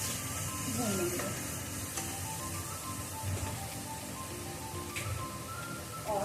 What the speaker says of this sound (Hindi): अब इसको हम ऐसे ही 1 से 2 मिनट के लिए अच्छे से सब्ज़ी को ऐसे ही भून लेंगे